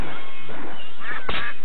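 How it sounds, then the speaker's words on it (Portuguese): Ducks quacking in a video game shooting scene, a few short nasal calls close together in a brief burst, loud and near with no talking over them. "Patos malditos."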